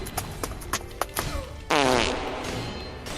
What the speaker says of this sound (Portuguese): Soltou um peidão